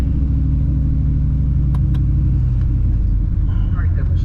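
A drag race car idles and rolls up at the strip, its low engine rumble steady and loud throughout, with brief clicks and a bit of faint activity near the end.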